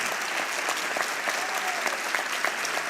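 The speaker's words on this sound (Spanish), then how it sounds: "Un aplauso de pie para el eterno maestro de todos nosotros, Luis Rafael Sánchez." A seated audience rises into a standing ovation for writer Luis Rafael Sánchez at a literary dialogue event in Caguas, Puerto Rico, with dense, steady clapping from a large crowd sustained throughout without spoken words.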